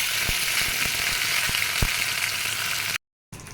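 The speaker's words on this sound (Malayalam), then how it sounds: "വെളിച്ചെണ്ണ ചൂടായിട്ടുണ്ട്. അപ്പോൾ അതിലേക്ക് നമുക്ക് കടുക് ഇട്ട് കൊടുക്കാം. കുറച്ച് ചുമന്ന മുളക് ഇട്ട് കൊടുക്കാം, കുറച്ച് കറിവേപ്പില," Mustard seeds, red chillies and curry leaves fry in hot coconut oil with a loud, close hiss and several sharp pops, cutting to brief silence before the sizzle returns.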